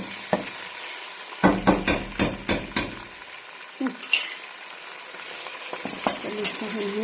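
Minced meat frying in a pan for a Syrian okra and rice dish, with a burst of rapid metal-on-pan stirring scrapes followed by a softer sizzle and occasional clinks.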